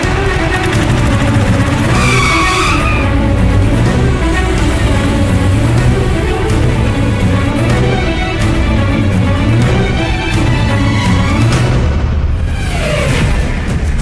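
Car tyres squeal in a loud, sustained skid over a continuous engine roar, followed by a dull impact as the vehicle crashes.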